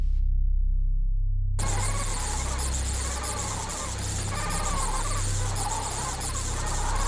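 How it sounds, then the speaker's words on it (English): Bats in a swirling smoke cloud in the retro shooter game FLESHBIRDS give off shrill, chittering squeaks over a low, steady rumbling drone, starting abruptly after a short silence and carrying on continuously. "by the sound of it, there are some bats in there"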